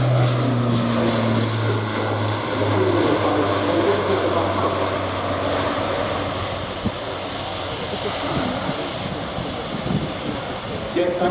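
An Airbus A400M turboprop rolling for takeoff at an airshow, a loud, sustained propeller drone with a low steady tone in the first half, swelling and roughening as it passes, with a voice talking over it.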